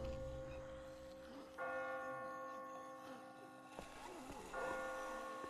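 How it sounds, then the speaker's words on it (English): Bells ringing in The Walking Dead video game, several sustained tolling strikes that swell and linger, heard at a moderate distance over a quiet ambient background. "I just got spooked by those bells"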